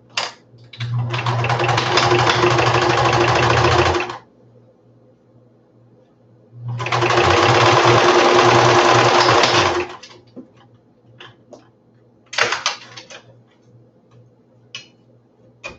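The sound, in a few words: sewing machine stitching costume butterfly wings together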